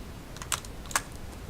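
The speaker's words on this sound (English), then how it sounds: "Now insert on my keyboard like this, and that inserts that." Several key presses on a computer keyboard click in a short burst, near and crisp against a steady background hiss.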